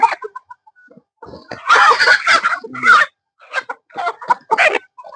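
Chickens clucking in a farm coop in Chí Linh, Hải Dương, Vietnam, in a run of close, uneven bursts of squawks and clucks with short gaps between them.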